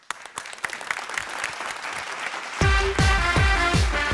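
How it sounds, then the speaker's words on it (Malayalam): A circus audience claps, building into full applause, then music with a heavy rhythmic beat comes in and plays loudly under the clapping. "ഒരു വലിയ കയ്യടിയോടുകൂടി നമുക്ക്"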